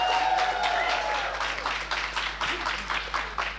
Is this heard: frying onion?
no